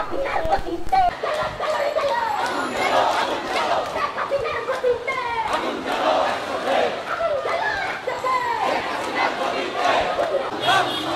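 A protest crowd on a street march during a student quota movement rally chants slogans in loud, rhythmic call-and-response waves, many voices shouting together continuously close by.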